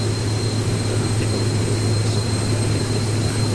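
Steady, loud jet engine drone of a Cirrus SF-50 Vision in the X-Plane flight simulator, a continuous broadband roar with a low hum and no talk.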